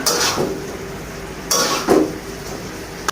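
A utensil scrapes and clinks against a pan while potatoes and chicken liver-gizzard are stirred. There are three or four distinct scraping strokes, close and fairly loud, with no talking.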